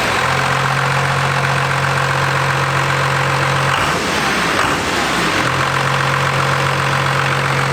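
A 12-valve Cummins diesel engine with new injectors runs loudly and steadily near the listener, its rough idle drone briefly dipping and wavering midway before settling back.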